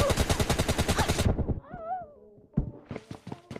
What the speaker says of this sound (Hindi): अबे कौन फायर कर रहा है